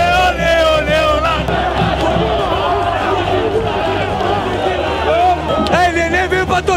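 Vasco football fans chanting and shouting in celebration after promotion to Série A, a loud, dense crowd roar with rhythmic sung chants and whoops close by, filling the whole stretch without a break.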